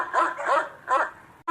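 A dog gives a few quick, sharp barks and yips at thieves sneaking around at night, three close bursts followed by a brief cutoff.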